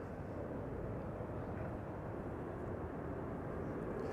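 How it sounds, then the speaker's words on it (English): A KLM Boeing 777-200 departs Schiphol, its jet engines a broad, steady low roar that stays distant and even throughout, with no voices. "next up is going to be KLM flight 735 at 777-200 to Willemstad, Curaçao"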